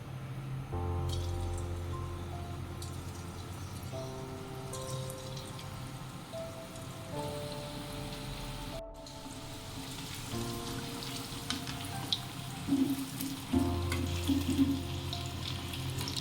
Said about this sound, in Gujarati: હવે આપણે પનીર તળી લઈએ.